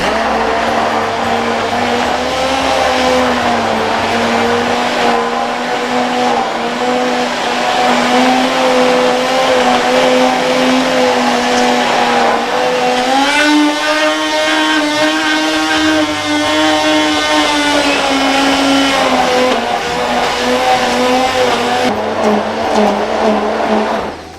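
A blender runs steadily and loudly for the whole stretch, blending a cherry and sweet cherry berry cocktail with frozen ingredients, a continuous motor whine with a slight pitch dip midway and no talk.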